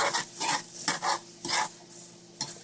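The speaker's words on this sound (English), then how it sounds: "Stir up your steak there." Flank steak being stirred in a stir fry pan, a series of close scraping strokes in an irregular rhythm over a faint steady sizzle, with no talking.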